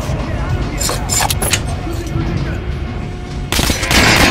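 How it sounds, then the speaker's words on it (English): Gunfire from the video game Metro Last Light aimed at an armored dummy: several quick bursts of sharp shots with metallic pings, then a louder blast of noise near the end. "Now shoot the armored dummy."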